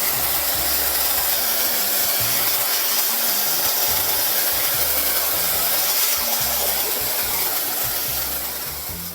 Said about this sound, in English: I like to use a hairdryer, and I put it on a medium heat